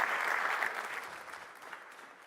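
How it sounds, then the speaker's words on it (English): An audience at a conference livestream applauds in a steady, fairly faint wash of clapping that slowly fades out, with no voices on top. "Ladies and gentlemen, please, a round of applause for Sam Engelbart."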